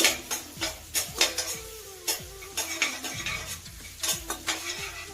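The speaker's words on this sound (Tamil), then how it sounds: "அதோட ஒரு பச்சை மிளகாவும் போடுறேன் இது ஒரு அளவுக்கு வதங்கட்டுங்க" Chopped onion and green chilli sautéing in a pan, with repeated metallic scrapes and clinks of a spoon stirring against the pan over a soft sizzle, close and steady throughout.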